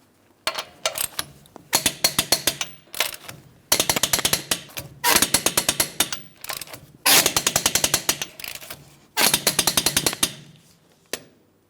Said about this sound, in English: Let's go ahead and torque these lug nuts to that 148 foot-pounds in a crisscross manner.